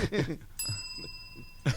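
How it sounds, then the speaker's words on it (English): A single bright ding of a handheld bell rung as a prize signal during an interview, ringing out clearly and decaying for about a second while people talk around it. "Get the bell out. I get the bell."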